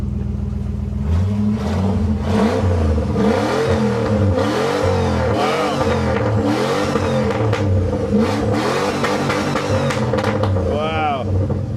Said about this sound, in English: I think it's warm, isn't it? So we can rev it.